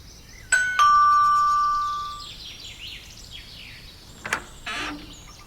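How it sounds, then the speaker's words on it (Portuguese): A house doorbell rings at the front door, a bright electronic chime with a sustained ringing tone that fades out, followed by a few fainter clicks and knocks, heard in the game Secret Files: Tunguska with no talk. "Não, a campainha está aqui."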